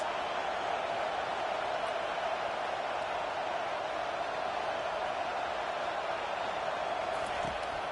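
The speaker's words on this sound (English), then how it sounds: "Listen to this crowd just shaking the girders of this place, trying to help their defense." At a college football game, a huge stadium crowd gives a steady, dense roar that never lets up, filling the whole space as if from within the stands.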